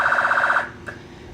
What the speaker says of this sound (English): I also have the sirens we've wired into the joystick controller